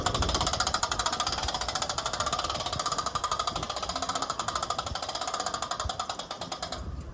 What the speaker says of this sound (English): So we need to raise the auger slightly to slide it back.